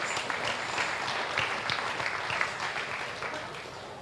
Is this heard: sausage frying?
no